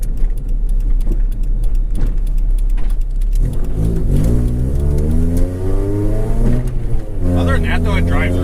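A $500 Honda CRX with a high-stall torque converter drives along, its engine rumbling and then revving up with rising pitch. A person talks over the engine noise.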